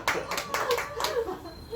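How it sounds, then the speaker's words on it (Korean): A small audience at a hair-salon product training session gives a brief burst of several quick claps, soft and close, with a voice talking over them. "박수 한번 주세요"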